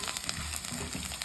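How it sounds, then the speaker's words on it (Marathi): Sun-dried lentil dumplings (sandge) roast in oil with a brief, soft crackling sizzle, close and continuous with small pops, and no talking. "तर अर्धा मिनिट असं आपण हे तेलावरती छान सांडगे परतून घ्यायचे"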